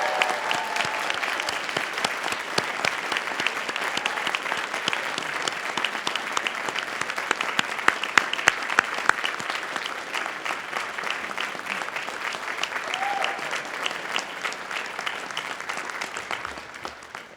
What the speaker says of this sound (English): So, please, cheers and applause.